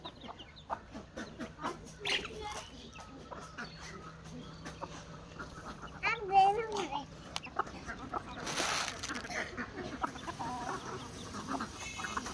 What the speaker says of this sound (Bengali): এই যে দেখেন মুরগি খাবার খাচ্ছে